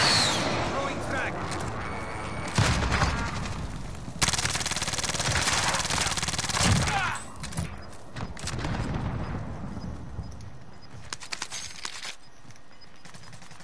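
Video game combat with a thrown frag grenade: a sharp blast, then dense, rapid gunfire that crackles and pops throughout, with several loud bursts and a voice speaking over the noise.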